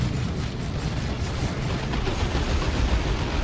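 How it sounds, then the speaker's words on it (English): Chaos Dreadnought autocannon firing in Dawn of War 2, a dense continuous barrage of heavy booming shots and explosions that blend into a loud, unbroken roar. "Here's the Chaos Dreadnought with auto cannon."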